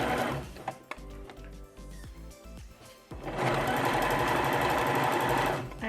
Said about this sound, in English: I'm sewing the darts.